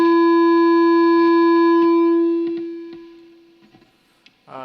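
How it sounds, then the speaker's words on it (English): A ukulele through a heavily distorted amp squeals into sustained feedback, a loud steady harmonic tone that holds for about two seconds, then fades away with faint scattered plucks and a short burst at the very end. "you'll hear it feed back immediately"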